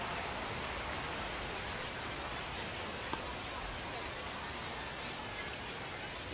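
Steady rain falls across a minor-league baseball stadium during a San Antonio Missions game against the Corpus Christi Hooks, a constant soft hiss of drops with no break, faint and distant.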